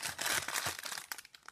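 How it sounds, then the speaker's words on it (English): Crinkly plastic packaging of an Aoyama Tokyo cake roll squishy toy crunches and rustles continuously at close range, with dense irregular crackles and a few sharper bursts near the end. "sorry for the crunching noise"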